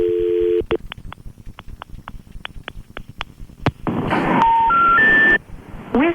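A telephone line hums with a steady tone, then a rapid series of short clicks pulses out the number, followed by a rising three-note beep sequence and a louder burst of line noise.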